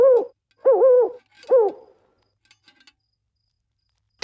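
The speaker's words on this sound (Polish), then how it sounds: "Sowa na drzewie robi hu-hu przez całą noc." An owl hoots in a night-time tree, three clear, close two-note hoots in an even rhythm, followed by faint scattered clicks and a brief sound at the very end.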